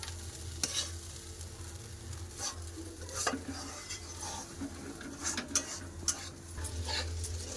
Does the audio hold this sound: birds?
no